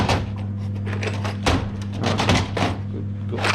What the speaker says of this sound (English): opens 2 drawers at once.